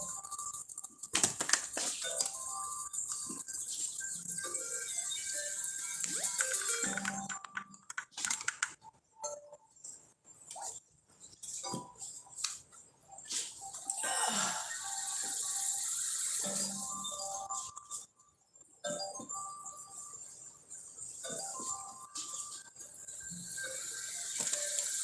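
A deck of cards is shuffled by hand during a numerology card reading: close, crisp riffling and clicking bursts that come in repeated rounds separated by short pauses.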